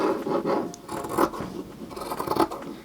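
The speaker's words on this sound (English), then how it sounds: "take your scissors, and you want to cut around the edge" Scissors snipping around the edge of a cloth pad during sewing, with a steady series of close rasping cuts and rustling fabric, about five or six strokes, no talk.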